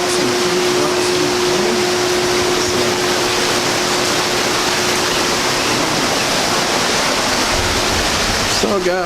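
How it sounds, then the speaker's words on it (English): A creek rushes steadily below a hotel room balcony at a Hampton Inn and Suites, a loud, unbroken broadband wash of flowing water with a faint steady hum underneath. "And listen to the creek."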